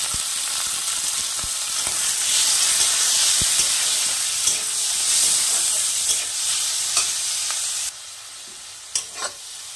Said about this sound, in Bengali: এখন এর মধ্যে দিয়ে দেব চিংড়ি মাছগুলো, দিয়ে একটু নেড়ে চেড়ে ভালো করে ভেজে নেব।